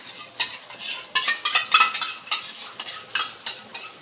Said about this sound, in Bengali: দিয়ে আমি মশলাটাকে ভালো করে কষিয়ে নেব।